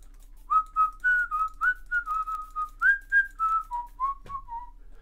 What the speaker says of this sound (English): Window cleaners always whistle.